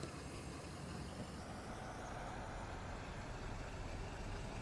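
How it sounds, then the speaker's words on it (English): A 2022 Ford F350 service truck from Farming Simulator 22 idles with a steady, low engine drone that stays even and unbroken throughout, heard alone at a quiet level. "I'm really liking the sound of this truck."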